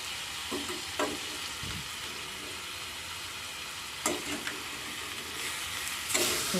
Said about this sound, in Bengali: কষিয়ে রান্না করতে হবে নেড়ে ছেড়ে এবার ভেজে যে রেখেছিলাম বেগুনটা ওটাও দিয়ে দেবো